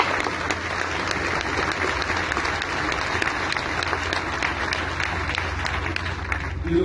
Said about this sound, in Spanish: Así que un aplauso para la gente que está pagando este puente.